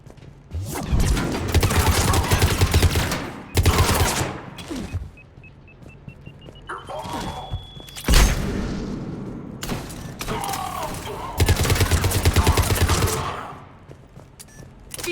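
Mass Effect 3 firefight: bursts of automatic gunfire and weapon blasts in several dense volleys, with rumbling impacts and electronic game effects between them, loud and close.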